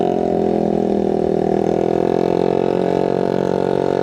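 Motorcycle and car engines on a busy road through Puncak between Jakarta and Bandung on a congested Friday afternoon, a steady loud idling and revving drone with no pauses.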